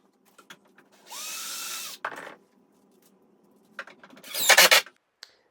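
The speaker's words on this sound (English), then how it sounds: "it was time to put some screws in to hold it all together" Power drill driving screws into kitchen base units, two separate bursts of whirring about a second long each, the second louder and harsher, with small knocks and handling noises between.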